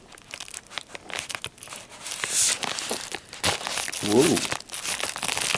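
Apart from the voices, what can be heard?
cutting open a package from the side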